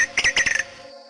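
A many-colored rush tyrant (siete colores) calls in a wetland, a quick burst of several sharp, scratchy chirps in rapid succession, close and fairly loud, then fading into quiet background.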